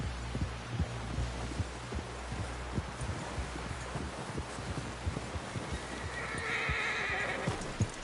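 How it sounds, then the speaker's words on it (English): Horse in Red Dead Redemption 2 whinnies and neighs while its hooves clip-clop steadily, loud and close, over constant game ambience with a rising whoosh near the end. "Someone help John down off this horse"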